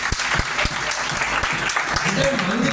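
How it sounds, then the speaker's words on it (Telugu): An audience at a Telangana language day event in Zaheerabad claps for the anchor, with a continuous rattle of applause and a few crisp, nearby hand claps. Voices murmur faintly toward the end. "ఒకసారి ఆమె కోసం చప్పట్లు కొట్టండి"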